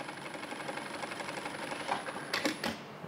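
A Karysma step motor sewing machine stitches a built-in decorative pattern, a soft steady mechanical whir with a brief louder clattering burst near the end.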